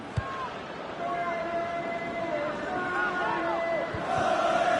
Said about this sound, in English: Crowd settling back down here in the Santiago Bernabeu Stadium.